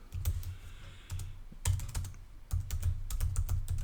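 Bursts of rapid typing on a computer keyboard while entering Swift code for an iOS app, close and crisp clicks in quick clusters separated by short pauses, with no voice.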